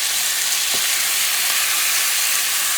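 Rabbit searing in a hot pan, a dense, loud, unbroken hiss of frying fat heard close and alone.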